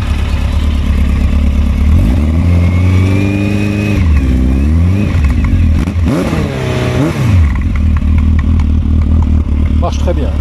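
A Suzuki GSX 1400 motorcycle with a full exhaust system and dB killer fitted revs up repeatedly from a deep, loud idle in several rising and falling surges, close by, then settles back to a rumbling idle.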